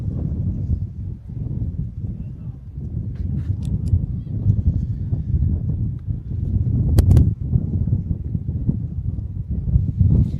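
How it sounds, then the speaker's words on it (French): Wind gusts across a rugby league stadium, the Stade Arnonnais, during a cup semi-final, making a steady low rumble and buffeting against the microphone throughout, with faint crowd sounds in the background. "le vent qui a un petit peu forci au Stade Arnonnais"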